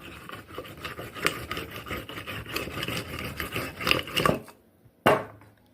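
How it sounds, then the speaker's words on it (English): A wooden rolling pin rolls out homemade two-ingredient noodle dough that has rested and been cut in half, giving a steady rubbing, rasping scrape over about four seconds before a pause and one sharp knock. "And then I roll it out with my rolling pin."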